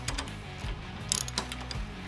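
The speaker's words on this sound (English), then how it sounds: "you're going to need to remove both of these cage bolts here" A ratchet or wrench clicks and ticks in short, irregular bursts while cage bolts are removed on a 2018 Polaris RZR XP Turbo UTV, close up over a low background rumble, with no talking.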